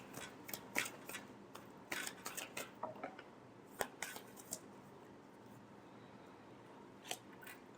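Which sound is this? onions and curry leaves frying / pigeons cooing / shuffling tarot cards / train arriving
shuffling tarot cards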